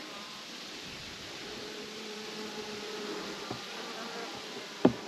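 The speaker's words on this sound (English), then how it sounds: "This is like a super small swarm." A small swarm of wild bees with a queen present, buzzing in a soft, steady drone close by, with a sharp brief knock near the end.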